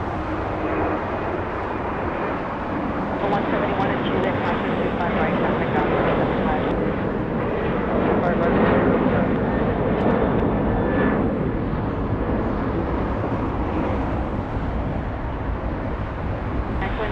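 A Lockheed C-130 military transport aircraft flies past near LAX, giving a loud, sustained propeller and engine roar that swells slightly mid-pass. A voice speaks over it.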